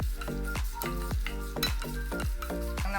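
Onions sauté in coconut oil for ulli chammanthi while a spoon stirs and scrapes the pan in a rhythmic pattern about twice a second over a soft, close sizzle, with no talking.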